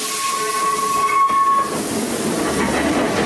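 Train passing along the railway in Kamakura, Japan, loud and close, with a sustained whistle-like tonal hiss over rumbling wheels that fades into lower track noise.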